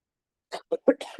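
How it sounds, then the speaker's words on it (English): A few short, harsh coughs in quick succession, close and fairly loud, with a throaty rasp at the end. "You will keep hearing these coughs."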